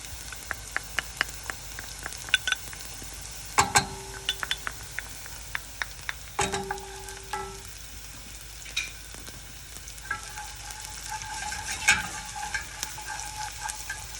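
Garlic sizzles in a hot pan for white bean crostini, a steady crackling hiss broken by frequent clicks and scrapes of a utensil stirring against the pan, close and moderately loud.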